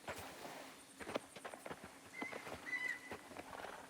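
Video game horse hooves clip-clop at a slow walk in Mafia: The Old Country, irregular knocks with light ambient sounds around them.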